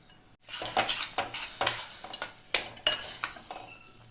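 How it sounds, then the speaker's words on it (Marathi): Milk stirred in a pan while making prasad sheera, a metal spoon scraping and tapping the pan in a steady series of close, distinct strokes over a low background hum. "व्यवस्थित हलवून घ्यायचं, गोळे होऊ द्यायचे नाहीये"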